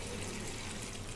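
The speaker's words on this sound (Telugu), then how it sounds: "ఇందులోనే నేను ఒక 2 గ్లాసెస్ ఆఫ్ వాటర్ వేసుకొని కుక్కర్ మూత పెట్టేసుకుంటానండి" Water poured from a glass into a pressure cooker holding mutton and raw mango curry, a steady soft splashing and trickling throughout, close and fairly quiet.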